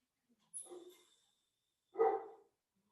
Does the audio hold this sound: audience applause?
no